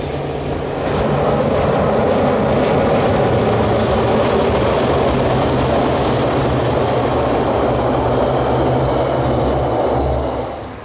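Steady, loud diesel engine rumble with heavy low drone and rail noise, continuous throughout as two DJ class diesel locomotives, 1210 and 1227, haul a passenger train close by.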